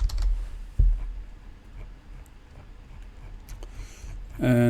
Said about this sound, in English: So let me type here SQL